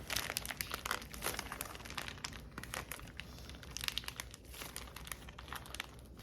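A plastic piping bag filled with sugar cookie dip crinkles and rustles continuously as it is squeezed and pushed down, close and fairly loud, with no talk.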